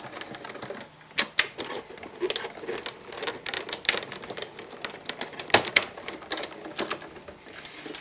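A die-cutting machine runs a paper gingerbread house roof through its rollers, giving a busy mechanical clatter of ticks and clicks with a few sharper snaps, steady and close.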